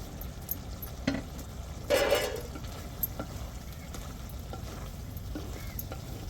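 Two sprigs of curry leaves drop into a hot pan of cooking chicken and burst into a loud, short sizzle, which then settles into a steady low frying hiss with a few faint stirring clicks.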